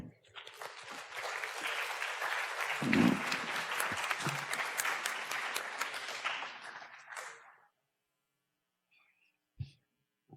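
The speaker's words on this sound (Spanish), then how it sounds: "vamos a recibirlo con un aplauso" A room full of people applauds steadily for several seconds, then the clapping fades to silence with a couple of small bumps afterward.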